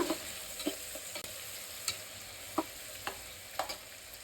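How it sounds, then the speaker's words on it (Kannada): Onion slices fry in oil for a Nati-style biryani, a faint steady sizzle broken by about eight soft scraping stirs at irregular intervals, with no voices. "ಮೂರು ಈರುಳ್ಳಿನ ಸ್ಲೈಸಸ್ ಕಟ್ ಮಾಡಿ ಹಾಕೊಳ್ತಾ ಇದ್ದೀನಿ ಈರುಳ್ಳಿ ಕಂದು ಬಣ್ಣ ಬರೋ ತನಕ ರೋಸ್ಟ್ ಮಾಡ್ಕೊಳ್ಳೋಣ"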